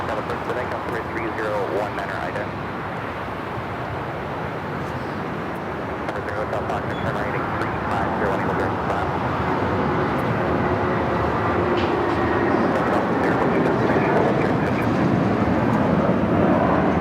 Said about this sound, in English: This is United Airlines 2039 taking off to Chicago on the 757-300.